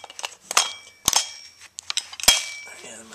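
KWA LM4 gas-powered airsoft rifle firing short full-auto bursts, sharp snappy pops in quick clusters with metallic clinks between, close and fairly loud, with no talking over them.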